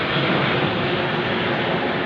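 An aeroplane flies overhead, a loud continuous broadband roar holding steady throughout with no other sounds.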